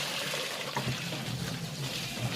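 Water running steadily from a tap into a container, a continuous splashing trickle that stays even and close for the whole stretch, with no one speaking.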